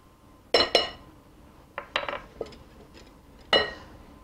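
Yogurt dressing ingredients being whisked in a bowl, producing a few scattered metallic clinks and taps of a utensil against the bowl, close and fairly quiet, with no talk.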